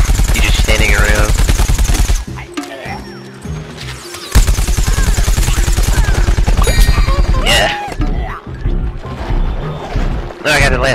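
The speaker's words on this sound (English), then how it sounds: "Let's shoot this guy." Rapid bursts of gunfire from shooting in Plants vs Zombies Garden Warfare, loud and dense, with a short lull midway before the volley resumes, along with other game effects.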